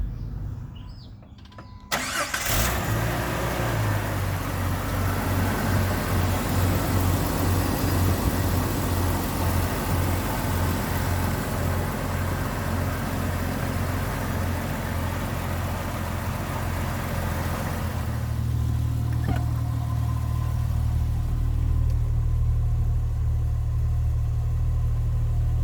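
A Jeep Wrangler with a suspected bad transmission mount cranks briefly and starts, then settles into a loud, steady idle close by, with a slight shift in engine tone partway through.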